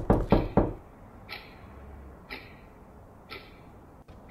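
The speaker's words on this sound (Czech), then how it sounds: "Klepání. Na okno" Knuckles rap on a window: three quick, loud knocks up close open the sequence, followed by three fainter single taps spaced about a second apart in a quiet room.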